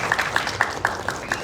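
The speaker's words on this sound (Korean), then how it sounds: "다시 한번 큰 박수 보내드릴게요." Scattered applause from a small audience after a lecture at an education event, a handful of separate claps spread over a second and a half, fairly faint.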